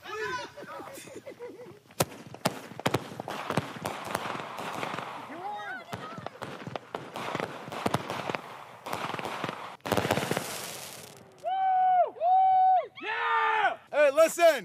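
New Year's fireworks go off outdoors in a run of sharp, loud cracks and bangs with crackling bursts, and people shout and scream between and over the blasts, followed by several whistling rockets near the end.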